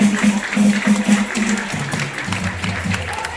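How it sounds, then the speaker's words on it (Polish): Crowd applause, a dense patter of clapping on the final straight of a men's 800-metre race at a Polish youth athletics championship in Inowrocław, with a voice talking over it near the start. "ostatnia okazja, aby podziękować oklaskami"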